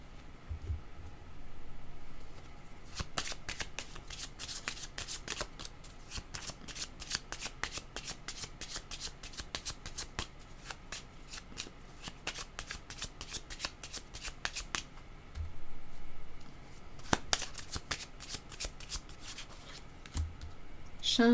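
Tarot cards being shuffled by hand for a reading, a long run of quick crisp riffling flutters in bursts with brief pauses, close and fairly quiet against a faint background.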